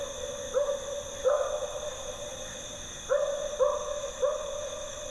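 Several short, dog-like calls of an unidentified creature, picked up by an outdoor recording device, come in separate bursts at moderate distance over a steady background hum, with no voices present.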